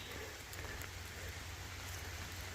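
Steady rain falls outdoors near a campsite along a muddy trail, a dense, constant hiss of drops that stays even throughout with no voices.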